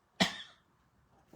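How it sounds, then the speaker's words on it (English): A single sharp cough from a woman crafting a card indoors, close and abrupt, then near silence and a faint trailing throat sound at the end. "Sorry, I have to cough."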